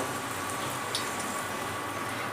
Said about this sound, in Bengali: দেখুন ওই তেলেই আরও কয়েকটা আমি ভেজে নেব